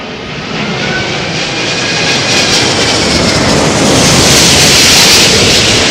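An Airbus A380 landing in gusty crosswind, a loud, continuous jet engine roar that swells steadily, heard alone without voices.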